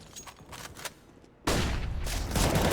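Pistol fire crackles in a Counter-Strike match, first as scattered faint distant shots, then a sudden loud, sustained burst of rapid gunfire close by.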